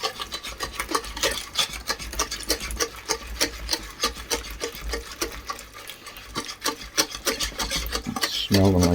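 A custard mixture is whisked in a bowl for a trifle, with a fast, steady rhythm of scratchy strokes against the bowl, close and continuous throughout.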